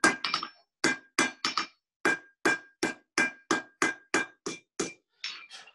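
A blacksmith hammers hot metal on an anvil at a ranch demonstration, about fourteen sharp ringing strikes in a steady rhythm with short pauses, loud and close with no talk.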